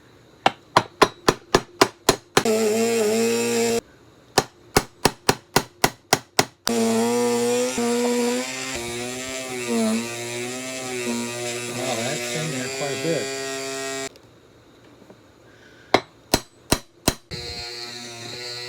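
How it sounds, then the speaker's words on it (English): A Dremel drill press starts screws in a wooden hand guard for a Henry AR-7 .22 rifle: loud sustained motor whirring in long bursts, broken by rapid sharp taps and clicks in between. "I'm using my Dremel drill press here to start the screws."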